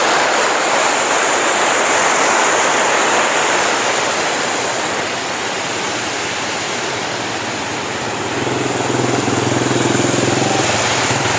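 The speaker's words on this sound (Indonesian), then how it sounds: "Nah ini dia curugnya, mungkin sekitar 5-7 meter ada nih" Curug Cibarebe, a waterfall about 5-7 meters high in rural Subang, roars as a loud, steady broadband rush of falling water, continuous and close throughout.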